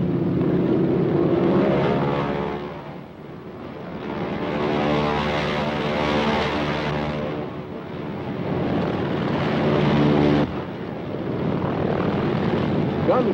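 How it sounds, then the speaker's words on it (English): Piston aircraft engines of carrier planes in Korean War archival footage roar loudly and continuously, with a steady droning hum that swells and fades slightly throughout. "Gun cameras record targets of the carrier planes."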